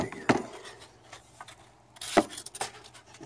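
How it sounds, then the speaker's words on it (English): Intermittent rasping scrapes of hand sanding on wooden oars, a few short strokes with quiet pauses between, close up and moderately loud. "It's going to do the final sanding."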